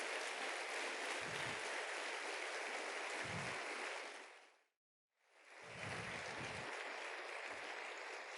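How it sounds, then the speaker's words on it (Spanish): Church congregation gives loud, sustained applause during a worship service, a dense roar of clapping with low thumps, briefly cut to silence midway before resuming just as full. "Levanta un fuerte aplauso, dale gloria a Dios"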